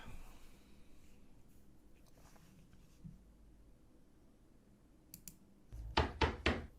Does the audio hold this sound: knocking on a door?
yes